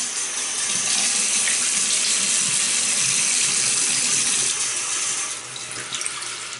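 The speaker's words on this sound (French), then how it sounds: "je vais mouiller ma figure, je vais humidifier ma brosse" A tap runs steadily into a sink at close range as a face and a shaving brush are wetted, making a constant hissing splash that eases slightly near the end.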